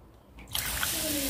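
Water poured over soaked red lentils as they are washed, a close, steady gushing splash that starts abruptly and keeps running with a faint trickle beneath.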